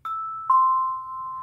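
Tone bells ring out a two-note doorbell chime, one clear strike followed by a second lower tone that sustains and fades, close and alone.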